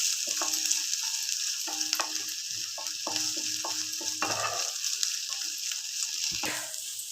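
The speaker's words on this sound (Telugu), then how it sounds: "ఇలాగా అల్లం వెల్లుల్లి వేగిన తర్వాత" Finely cut ginger and garlic frying in oil, a continuous hissing sizzle with scattered light clicks of stirring, steady and moderately quiet.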